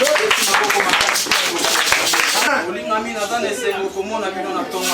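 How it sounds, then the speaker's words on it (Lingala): A church congregation claps loudly and densely for a few seconds during a worship service, then the applause gives way to someone speaking in French. "Acclamez très fort pour la parole de Dieu"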